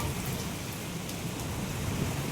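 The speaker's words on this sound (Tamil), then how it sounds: "மழை பெய்யுது" Steady rain falls outdoors, a dense continuous hiss of drops on surfaces with no break and nothing else standing out.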